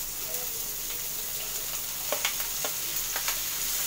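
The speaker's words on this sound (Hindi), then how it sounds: "दो मिनट लई मैं प्याज नूं भुन लिया।" Onions frying in hot oil with half a spoon of cumin, alongside green chillies and tomato for a paneer wrap: a soft continuous sizzle with several sharp spatula scrapes in the second half, close and fairly quiet, no talking.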